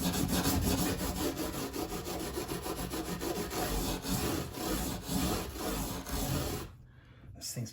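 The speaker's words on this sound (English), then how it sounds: "Burnish the frets, even everything out." A brass bristle brush scrubs the frets of a Martin DX1AE acoustic guitar, loud continuous close rubbing strokes that break off briefly near the end, with no talk.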